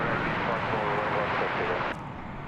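A four-engine jet airliner at DFW Airport, heard as a broad, loud roar of engines that holds steady and then drops sharply to a quieter rumble near the end, with no voices.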